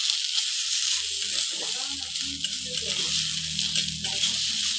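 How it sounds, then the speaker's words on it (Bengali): Pumpkin leaf paste fries in a wok with a steady, bright sizzle throughout, loud and close, while a person talks under the hiss. "এই 2-4 মিনিট মতো এটাকে আমি ভেজে নেব।"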